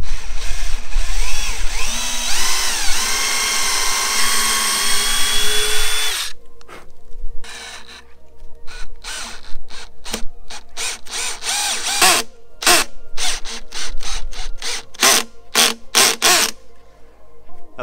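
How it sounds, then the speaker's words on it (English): A power drill bores pilot holes with a countersink bit and then drives screws into an upper cabinet built in a camper van. There's a long whining spin, then short bursts and ratcheting pulses, loud and close. "We're pre-drilling a hole, and then we are putting the screw in."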